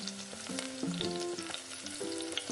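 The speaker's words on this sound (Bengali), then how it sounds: "তেল গরম হয়ে গেলে এতে দিয়ে দেব তেজপাতা, গোটা জিরে আর" Bay leaf and whole cumin seeds sizzle steadily in hot oil, a close, continuous frying hiss with faint stirring and clinks of a utensil against the pan.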